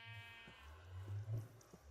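Sheep bleating in Minecraft, a short faint wavering bleat or two, heard alone in a quiet moment.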